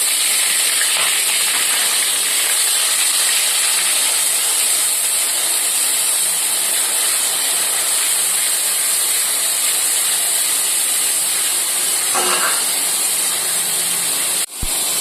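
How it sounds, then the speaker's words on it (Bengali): Onion paste goes into hot oil while cooking a Bengali chitol fish kalia, just after garam masala, giving a steady, loud sizzling hiss that runs unbroken for the whole stretch, with no talk over it. "এবার দিয়ে দেবো দুখানা পেঁয়াজ, আমি পেস্ট করে রেখেছি, পেঁয়াজ দুটো দিয়ে দিচ্ছি।"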